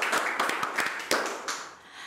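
A small group claps for a couple of seconds, the sharp claps irregular and close, tapering off toward the end.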